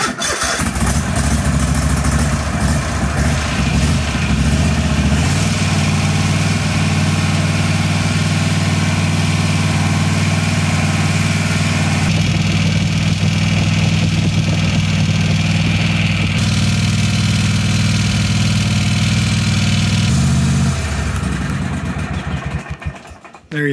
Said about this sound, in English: but the engine should fire up